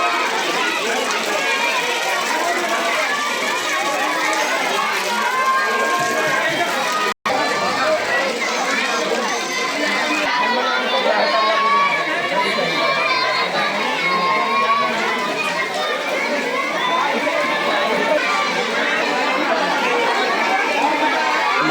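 Steady murmur of crowd chatter at a school children's fair run by pupils of a Zilla Parishad primary school in Sheni, with children's voices, shouts and running mixed into the continuous hubbub throughout.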